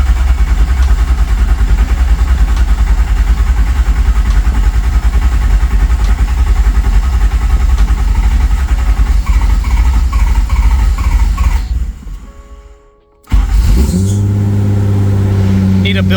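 Swapped engine in a clapped-out Toyota Supra Mk3 running at a loud, steady idle with a rough mechanical drone, then cutting out near the end before firing back up and settling into idle again.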